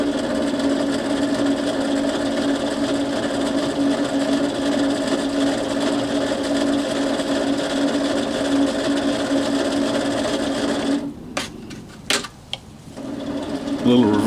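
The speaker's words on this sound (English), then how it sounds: "Flip out in the main breaker, forward, and give them a little throttle here." A railroad locomotive engine running under a little throttle, a steady droning hum with a whining tone that holds for about eleven seconds before it breaks into clunks and knocks.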